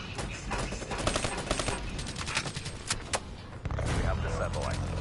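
Dense, continuous gunfire from the video game Black Ops 3 crackles and rattles throughout in rapid bursts, with a heavier boom near the end, under a busy game mix.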